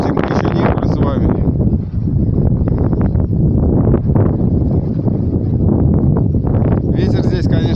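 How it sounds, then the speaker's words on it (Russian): Strong gusty wind blowing in off the sea at Balaklava bay, Crimea, buffets the microphone in a continuous rumbling roar, with a person talking under the noise. "Ветер здесь, конечно, сильный."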